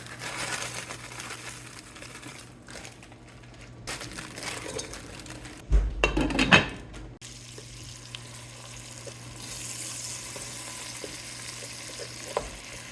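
Onions, carrots and celery, frozen from the garden, sauteing in a soup pot: a soft, steady sizzle with occasional stirring, scraping and rustling, and a louder burst of clatter midway.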